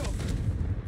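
The Confringo blasting spell from the video game Hogwarts Legacy lands as a short, heavy, booming blast with a low rumble, close and loud.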